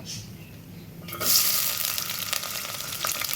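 Onions hit hot soybean oil with a sudden, bright sizzle that jumps up after a quiet moment and then keeps up a steady crackling hiss, close and moderately loud.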